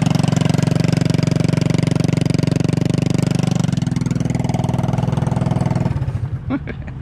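Loud, unmuffled engine on a small homemade vehicle whose aluminum bottom broke, running with a steady harsh pulsing drone that shifts in pitch midway, then drops off and sputters near the end.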